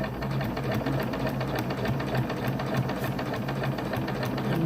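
Sewing machine stitching along the outer edge of a down throw underquilt, a steady continuous mechanical whir with a low rhythmic motor hum running throughout, close and even in level.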